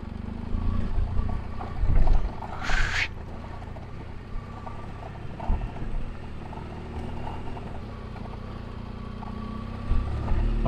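A car engine labours in first gear, climbing slowly up a zigzag mountain road near Chacaltaya in the Bolivian Andes at high altitude. It gives a steady low drone, with a brief louder burst and light rattles, and there is no talk.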